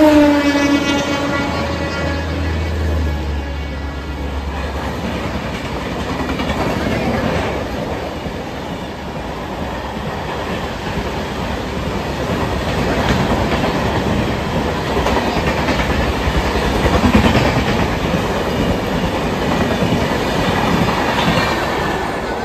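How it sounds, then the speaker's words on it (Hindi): A train rushes past near the Ganga at Kolaghat, a loud, sustained rumble with rapid clickety-clack of wheels over rail joints and some metallic squeal, holding strong throughout. "ट्रेन आ रहा है देखिए।"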